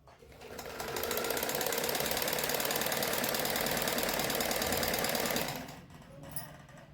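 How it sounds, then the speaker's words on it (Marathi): A sewing machine runs steadily while stitching a piping strip onto a kurti, a continuous rapid mechanical whir lasting several seconds before stopping, with faint handling sounds afterward. "अशी शिलाई घेत संपूर्ण पट्टी शिवून घ्यायची."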